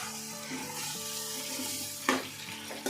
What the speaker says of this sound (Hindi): तो अब चिकन को भी फ्राई कर लेंगे।